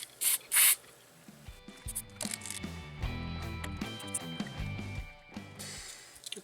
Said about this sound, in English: I'm just going to kind of squirt down with some deoxit to start with